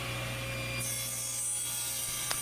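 A table saw rips through a wooden board with a steady, dense whine and grinding hiss that holds throughout, ending in a faint click.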